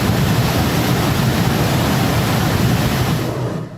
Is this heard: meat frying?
no